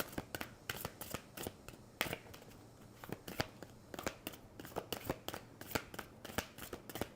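Tarot cards being shuffled by hand in quick repeated riffles and snaps, close but fairly quiet, with a steady rhythm of crisp card flicks.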